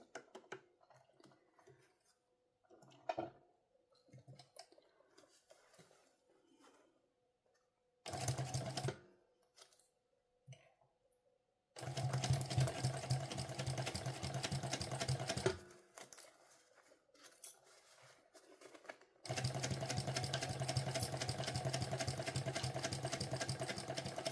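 A sewing machine running in bursts as it closes a pocket seam with a 1/8 inch allowance on a sling pouch, loud whirring runs separated by quiet gaps with small handling clicks.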